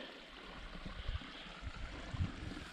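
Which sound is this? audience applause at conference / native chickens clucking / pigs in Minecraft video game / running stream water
running stream water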